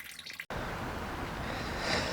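Water from a soaked boat headliner splashes down in a steady, close, continuous patter after a brief quiet start, growing slightly louder near the end.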